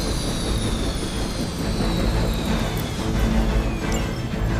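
A video game helicopter in flight: a steady, roaring engine drone fills the scene, loud and continuous, with a faint whine rising above the rumble.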